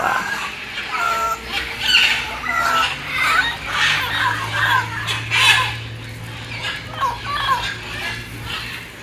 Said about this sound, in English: That's a rooster.